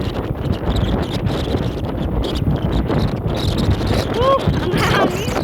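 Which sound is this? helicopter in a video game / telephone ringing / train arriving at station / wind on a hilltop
wind on a hilltop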